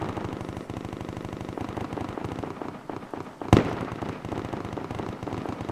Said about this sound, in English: There's some fucking heavy fire going on.